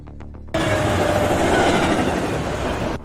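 In an animated series, a train suddenly roars into a loud, continuous rumble of wheels on the tracks, with a dense rattling clatter that holds steady after a few faint tones.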